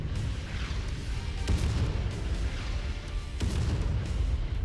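Artillery fire in MechWarrior 5: Mercenaries, heard as a steady rumbling battle din with two sharper booming impacts about two seconds apart, loud and continuous throughout.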